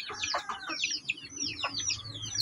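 Several heritage-breed chickens cluck and chirp in quick overlapping bursts, close by, with a low background hum.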